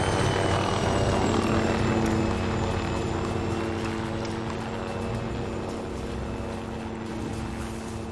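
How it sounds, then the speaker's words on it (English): A military helicopter in Arma 3 drones with a loud, steady rotor thump and engine whine that slowly fades as it moves away, with no speech over it. "The helicopter's gone."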